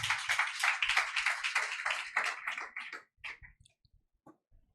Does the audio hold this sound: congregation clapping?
yes